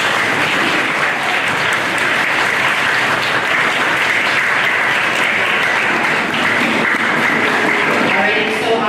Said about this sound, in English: can you give the audience a round of applause